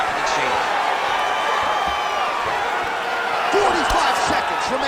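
A crowd in an EA Sports UFC 5 fight roars and applauds after a grappling exchange between two fighters. The cheering is a steady, dense wash under commentary, swelling slightly near the end.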